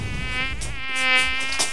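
Near the ear, a mosquito buzzes with a high, droning hum that swells and fades slightly as it circles, heard alone without speech.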